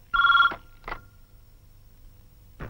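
A telephone rings alone in a quiet room: one long bright electronic trill, then a shorter burst, then a pause before a third ring starts, close and clear.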